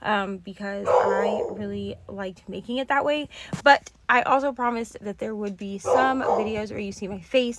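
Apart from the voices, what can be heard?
dogs barking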